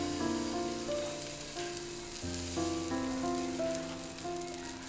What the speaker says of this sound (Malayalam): ഞാൻ ഒരു തവയിൽ തന്നെ 3 എണ്ണം ഒഴിക്കാൻ പോകാം കേട്ടോ